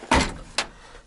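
A newly installed door on a VIS 2345 car shuts with a short latch click, followed a moment later by a second, duller thump, heard up close in a quiet workshop.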